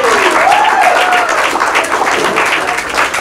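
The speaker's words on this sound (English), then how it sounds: "Give her a round of applause." Loud, continuous applause from an audience at a talk in Sioux City, sustained clapping filling the room without a break.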